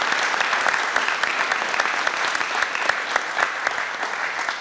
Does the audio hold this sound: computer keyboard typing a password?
no